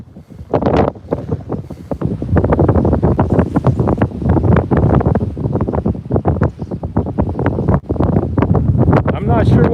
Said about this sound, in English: Not sure what the wind speed is right now, but it's really picking up.